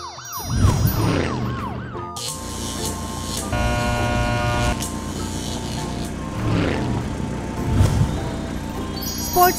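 A police car siren, likely from a children's vehicle cartoon, wails in rising and falling sweeps over steady background music. It sounds loudest at the start and again near the end.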